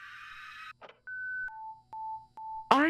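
A phone call starts in the Five Nights at Candy's Remastered horror game: a ringing tone, a short click, then a series of clean electronic beeps stepping down in pitch, ending on a sudden burst of sound.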